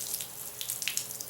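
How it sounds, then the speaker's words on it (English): Water spurts and hisses from a freshly cut drip irrigation bubbler tube, a brief steady splashing gush heard up close. "You watch when I cut this, water's going to come out of here."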